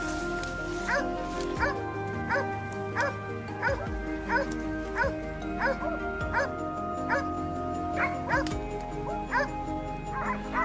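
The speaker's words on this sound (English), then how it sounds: "they erupted in frantic barking, a hopeful signal that a boar had been spotted" Hunting dogs bark and yelp frantically in a continuous, overlapping chorus during a wild boar hunt, close and loud, with whimpering mixed into the repeated bursts.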